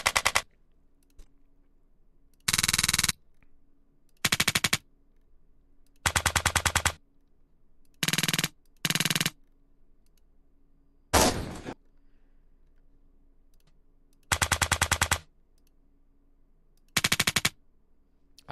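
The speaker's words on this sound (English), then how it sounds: "The toy machine gun." A toy machine gun sound effect from a video game fires in repeated bursts of rapid rattling shots, each lasting about half a second to a second, separated by quiet gaps with a faint background hum.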